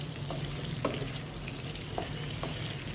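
Eggplant being stirred with sesame masala in a pan, a steady low sizzle with a few soft scraping strokes of the spoon, close and even throughout.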